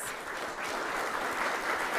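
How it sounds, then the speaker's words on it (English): Continuous audience applause fills a hall at a broadcasting union general assembly, a steady wash of many hands clapping at moderate distance. "Let's give these legends a round of applause."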